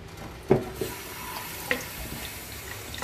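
Tap water runs into a sink to wash acrylic paint off a Mandalorian chest plate, a steady close splash with a couple of sharp knocks and clatters, no talk.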